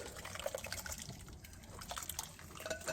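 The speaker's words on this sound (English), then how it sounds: "So I'm going to pour this over." Thick barbecue sauce glugs and splatters as it is poured over a large batch of pork ribs in a kitchen, a wet, irregular stream of drips and splashes heard close up without talk.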